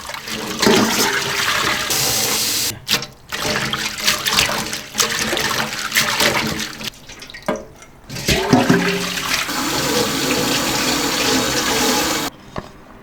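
Spinach being washed under a running kitchen tap, a steady loud rush of water splashing over leaves into a sink with brief pauses as the flow is interrupted.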